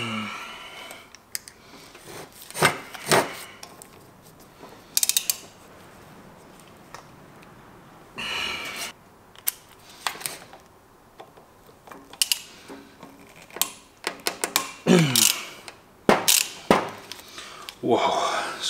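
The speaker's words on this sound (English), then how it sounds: "So I'm going to go up to a 1/2 inch driver here, because they're really very tight in there." A 1/2 inch driver with a PH3 bit works loose very tight screws on a single-seat golf buggy motor during a strip-down, giving intermittent clicking, ratcheting bursts and creaks separated by quieter gaps.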